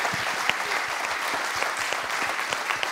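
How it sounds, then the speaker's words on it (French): Audience applause at a European Space Agency conference in honour of speaker Isabelle Duvaux-Béchon, steady dense clapping at moderate level with no voices over it. "on peut applaudir Isabelle Duvaux-Béchon"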